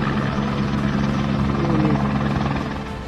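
A Pakistan Army Aviation helicopter hovers close by during a flood rescue on Chakri Road in Rawalpindi, its rotor thudding steadily and loudly throughout with no voices.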